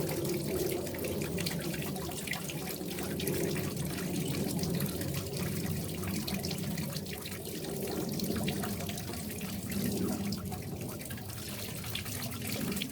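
Fast flowing mountain stream at a gold prospecting spot, a steady rushing, gurgling wash of water heard close and alone, no voices.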